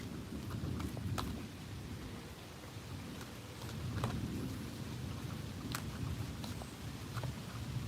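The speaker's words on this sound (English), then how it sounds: "I heard it start to like rumble and thunder" Rain patters outside during a thunderstorm, soft and steady, with scattered drips close by and a low rumble swelling faintly underneath.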